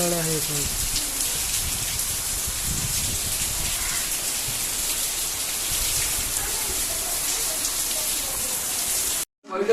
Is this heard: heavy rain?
yes